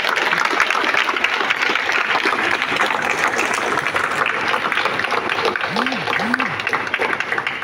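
At a swearing-in ceremony, a crowd claps steadily for the incoming leader, a loud, continuous wash of hands that holds throughout, with a few brief voices and calls rising over it.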